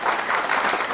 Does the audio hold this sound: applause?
yes